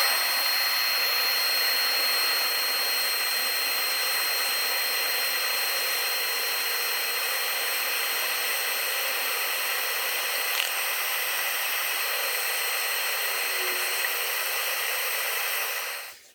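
A brass and resin inlay bowl is sanded on a wood lathe, a steady loud whirring hum with a faint rushing hiss that runs unbroken before stopping abruptly at the end.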